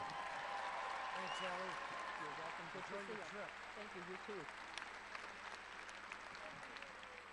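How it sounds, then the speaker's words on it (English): Audience applause at a state championship volleyball awards ceremony for the girls' all-tournament team, a steady wash of clapping in a large gym, with voices talking throughout. "Let's give them a big round of applause."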